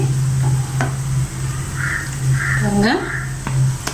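Potato snack frying in oil, a moderate sizzle running under nearby talk, with a few short clinks and utensil sounds.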